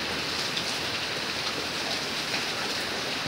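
Steady heavy rain falls in Jamalpur Sadar near rice fields and a railway line, a dense, even hiss of drops on surfaces that continues unbroken and close throughout, with no voices.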